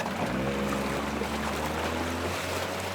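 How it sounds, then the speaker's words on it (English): Boat motor in the Animal Crossing Happy Home Paradise video game drones as a steady low hum beneath a wash of water noise, constant and moderately loud without any voices. "Yep, it's the boat. I hear the motor."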